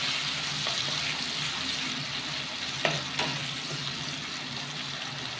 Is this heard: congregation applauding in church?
no